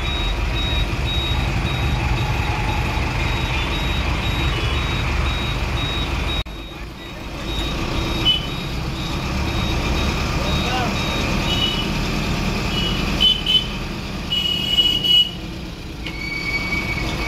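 Riding a bus toward Majerhat station in Kolkata, with a continuous engine and road rumble filling the cabin, occasional rattles and brief tonal beeps rising over the steady, fairly loud interior drone.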